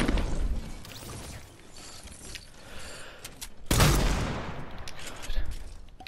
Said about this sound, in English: Yes, the drum gun.